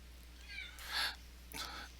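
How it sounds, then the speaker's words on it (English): A house cat meows a couple of times indoors, the short calls standing out fairly close against a quiet room with a steady low hum. "Don't mind my cat."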